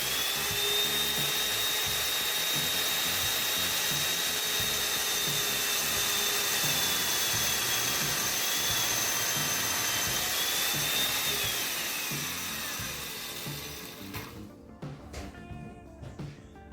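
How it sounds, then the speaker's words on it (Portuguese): A Makita 7104L chain mortiser cutting into wood produces a loud, continuous high-pitched whine with a shifting tone that winds down near the end, leaving faint clicks and rattles. "Eu iniciei a furação e agora eu vou fazer um ajuste fino."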